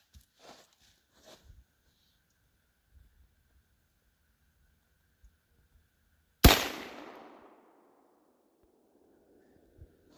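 A single sharp crack from a scoped 30-30 rifle rings out at an outdoor range, loud and near, with a short decaying echo, preceded by faint footsteps and small handling noises.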